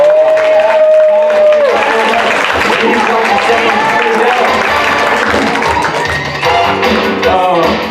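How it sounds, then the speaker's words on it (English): Audience applause at an improv comedy show, broad clapping mixed with crowd noise and cheering that carries steadily across the whole stretch, with a tone sliding at the start and voices mingling underneath. "of applause for Kyle"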